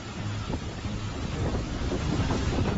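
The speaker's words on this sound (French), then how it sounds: "Le vent souffle avec force." A strong typhoon wind blows on a coast near Shanghai, a loud continuous roar with heavy buffeting of the microphone and no pauses.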